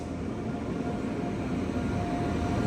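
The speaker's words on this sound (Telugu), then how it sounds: "మన పక్క ప్లాట్ఫామ్ లోకి ఒక ట్రైన్ అయితే వస్తుంది" A train hauled by a WAP 7 electric locomotive with ICF coaches rolls into the adjacent platform of an Indian railway station, a steady, fairly loud broadband rumble with a faint sustained tone running throughout.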